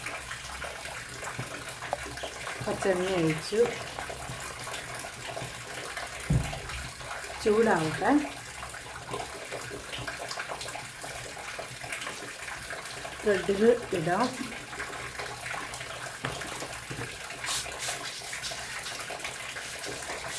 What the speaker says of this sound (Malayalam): വെള്ളം വീഴുന്ന ഒച്ച കാരണം പറയുന്ന കേൾക്കുന്നുണ്ടോ പോലും അറിയത്തില്ല.